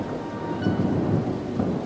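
Heavy torrential rain pours down steadily while deep thunder rumbles underneath, loud and close, with no voices.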